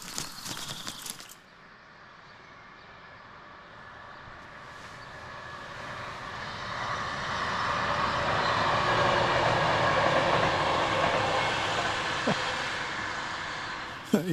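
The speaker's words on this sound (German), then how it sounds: "Da war die Bahn auch direkt neben dem Campingplatz. Schon wieder eine Bahn." Train passing right beside a campsite along the Danube, rising from a faint rumble to a broad, steady roar that peaks midway and slowly fades, with a sharp clatter at the very start.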